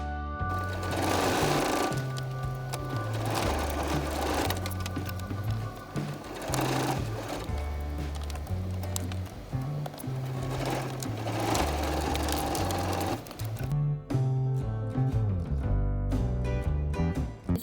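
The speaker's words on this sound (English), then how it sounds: "Sew along both edges but stop sewing when you get to the end of the lining." Sewing machine stitching a ruffled fabric face mask, a loud, close, fast mechanical chatter that runs almost continuously in long stretches, ending in a few shorter bursts.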